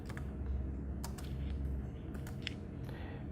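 Typing on a computer keyboard gives a few sharp, quiet key clicks in scattered short bursts over a low steady background hum.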